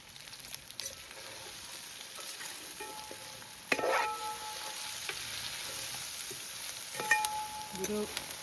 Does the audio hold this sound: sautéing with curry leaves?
yes